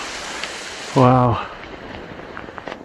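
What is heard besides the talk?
heavy rain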